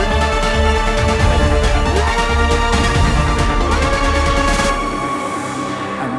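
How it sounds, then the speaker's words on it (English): Big cinematic score where lush strings layer over a heavy synth bed and driving percussion, loud and dense throughout before easing off slightly at the end. "the strings join the big synth energy just to make it big and cinematic"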